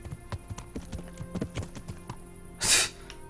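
A horse's hooves clip-clop at a walking pace in Kingdom Come Deliverance, a steady series of close, distinct hoof knocks for several seconds, followed by a brief loud hiss or whoosh near the end.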